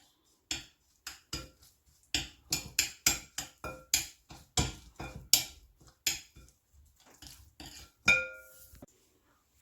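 Spices and green chili paste are mixed in a bowl for chicken tikka, heard as a sequence of sharp, close clinks and knocks of a spoon against the bowl, repeated in an irregular rhythm with brief pauses between strokes.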